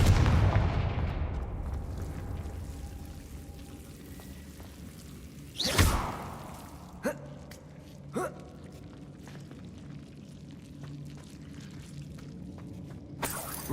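Confringo blasting spell in the Hogwarts Legacy video game, heard as a few sharp explosive bursts: one strong blast near the middle, then two lighter cracks and a last hit at the end, over a low ambient game hum.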